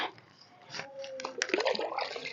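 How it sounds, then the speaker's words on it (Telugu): Water poured onto newly planted cabbage and cauliflower seedlings in a backyard garden makes a soft splashing and trickling that grows louder and busier toward the end. "ఇప్పుడు మనం పెట్టిన ప్రతి మొక్కకి ఇట్లా నీళ్లు పోసుకుంటున్నా"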